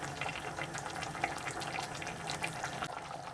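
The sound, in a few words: pouring broth into Thai red curry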